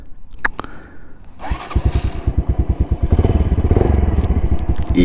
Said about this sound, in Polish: Także przekręcamy sobie stacyjkę.